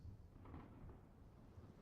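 Thunder rumbles outside during a game session, a low continuous roll that stays faint and distant throughout with no talk over it.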